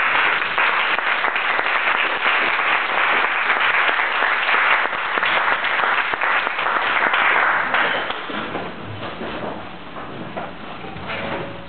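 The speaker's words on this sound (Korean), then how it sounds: "힘찬 박수로 환영해 주시기 바랍니다." Warm applause from a church audience as a visiting pastor is welcomed to speak, many hands clapping densely and loudly for most of the stretch before thinning and fading slightly toward the end.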